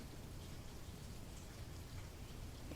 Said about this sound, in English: this morning we have a soft rain.